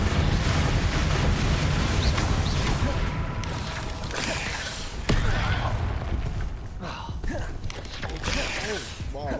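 A Confringo spell explodes in Hogwarts Legacy: a booming, rumbling blast with whooshing debris and a sharp peak midway, loud and near, over continuous game noise with a voice talking.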